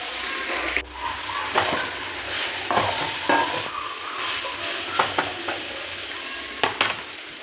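Onions sizzle in hot oil in a pan under an even, close frying hiss, broken by repeated scraping knocks as a spoon stirs them, with no talking.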